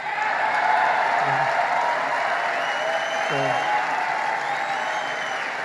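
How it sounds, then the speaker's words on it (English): A crowd claps at a political speech, a continuous even roar of applause with some cheering, as a voice briefly speaks over it. "what are they possibly clapping at?"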